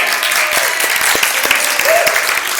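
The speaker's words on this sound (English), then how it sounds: "can I have a round of applause for my actors for the lovely Daniel?" Audience at a children's church service claps in a steady, lively burst of applause, close and fairly loud throughout.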